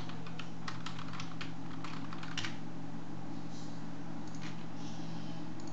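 Someone types on a computer keyboard to search for Android Studio on a Linux Mint 19 system: a quick run of soft, close key taps, then a few scattered presses, over a steady low electrical hum.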